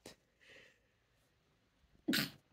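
A single sharp, loud sneeze bursts out near the end after a short cough-like breath at the start and quiet gaps between.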